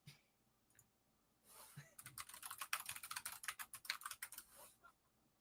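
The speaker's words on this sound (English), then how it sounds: "Can you figure it out by the typing?" Rapid typing on a computer keyboard, a dense run of sharp key clicks that starts after a quiet pause and stops near the end, close and fairly loud with no talk over it.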